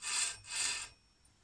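Bench grinder sharpening a woodturning tool's bevel, giving two steady hissing, rasping passes of steel on the wheel, close and fairly loud, with a short pause between them and no talk.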